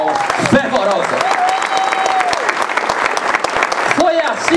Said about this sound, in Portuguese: Aqui eu peço de nós a salva de palmas fervorosa.